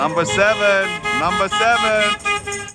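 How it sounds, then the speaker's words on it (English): UPS truck horn honking in a busy street during a Hollywood actors' strike picket, repeated loud toots close by, with a voice speaking over them. "Even the UPS truck is honking."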